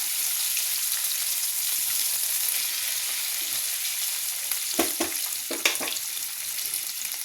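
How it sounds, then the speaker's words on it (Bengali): Onion, potato and black cumin fry together in fish oil with a steady soft sizzle, joined near the end by a few sharp scraping stirs of a spatula. "পেঁয়াজ, আলু আর কালো জিরে একসাথে ভাজবো।"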